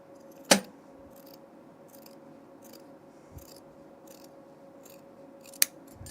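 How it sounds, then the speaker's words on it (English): Scissors snip off the excess fabric at a dress dart while sewing, two sharp separate cuts several seconds apart in a quiet room with a low steady hum. "So I'm gonna trim off my dart excess here."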